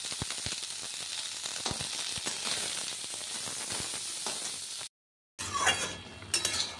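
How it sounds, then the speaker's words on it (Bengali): Eggplant and green chili are stirred in a hot pan, giving soft scraping and light clinks of a utensil over a steady sizzle, then a short break before more stirring noise. "এবার একটু নাড়াচাড়া করে দেবো হচ্ছে বেগুন আর কাঁচা লঙ্কাটা।"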